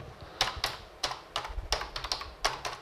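Someone types a search on a computer keyboard, with quick, close, uneven clicks and a few louder keystrokes. Faint background noise sits under the keys, and no one talks.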